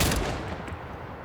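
Rapid, loud burst of full-auto fire from a scoped shotgun in a video game, dense overlapping blasts that fade out within about a second.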